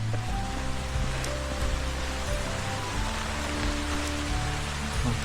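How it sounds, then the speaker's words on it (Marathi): Steady, dense rain pours down without a break, a constant hiss with a low rumbling undertone and no voices. "पाऊस पण आता लय जोरात येईल"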